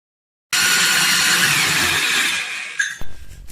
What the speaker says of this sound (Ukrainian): Тепер вставляємо коронку в перфоратор. Вибираємо режим обов'язково свердління без ударів.